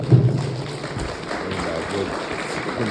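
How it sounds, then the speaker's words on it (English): Audience at a municipal election candidate forum giving a round of applause, moderate scattered clapping in a room, with a heavier burst at the start and some voice underneath. "To give them a big hand of applause."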